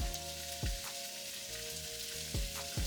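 Garlic sizzling in a pan with potatoes and onions, a steady close crackle of frying with a few brief scrapes or stirs breaking through.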